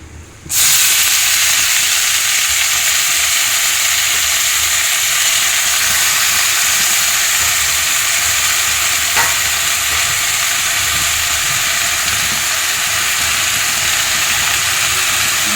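Wet gongura (sorrel) leaves, just washed, are frying in oil in a pan for a gongura chicken curry. A loud, steady hiss and sizzle starts sharply and keeps going with no talking.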